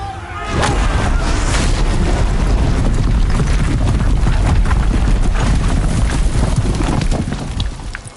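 Big guns fire during a battle in the video game Horizon, a loud, sustained roar of booming blasts and crackling impacts that builds quickly and fades near the end.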